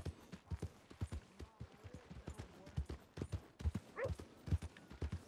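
Horse hooves clip-clop in a steady, regular rhythm through the whole stretch in Red Dead Redemption, fairly close and moderately loud, with a brief whinny-like call partway through and some voices under the hoofbeats.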